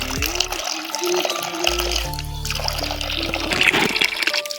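Water pours steadily into containers for caged chickens and pigeons at a home, a continuous close splashing and trickling that shifts in pitch as the vessel fills.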